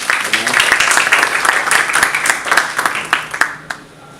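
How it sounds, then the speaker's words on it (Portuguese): An audience gives a sustained round of clapping for the speaker of a philosophy lecture, dense and fairly close, tapering off near the end. "uma salva de palmas mais uma vez para o Renan"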